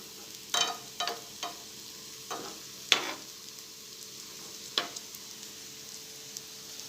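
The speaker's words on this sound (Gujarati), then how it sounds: "થોડા હલાવતા જઈશું અને નીચેથી ક્રિસ્પી થાય એટલે આપણે પલટાવી લઈશું." A methi and besan snack frying in a pan gives a soft steady sizzle, broken by a handful of sharp scraping strokes as a spatula stirs and turns it, close up with no talk.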